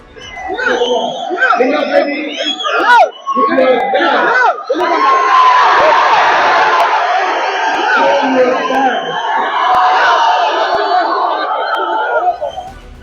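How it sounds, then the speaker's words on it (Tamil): A large crowd of fans shouts and cheers loudly and continuously at an actor's stage speech, a dense roar of voices with whoops and chatter that swells after a brief dip and holds steady to the end. "அவரது தொண்டர்கள் கத்தி ஆரவாரம் செய்தனர்"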